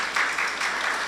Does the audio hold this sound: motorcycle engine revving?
no